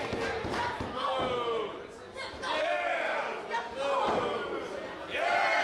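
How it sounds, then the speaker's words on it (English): A pro wrestling crowd cheers and shouts in rising, falling waves, with thuds from the ring and an announcer talking over the noise. "And listen to that crowd."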